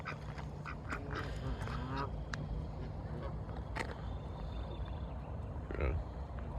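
Geese honking around a pond with a heron nearby, irregular calls and quacks mixed with steady background noise as people talk close by.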